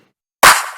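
One loud, sharp rhythm clap drum sample from an electronic beat, bursting suddenly out of silence and fading over a brief tail.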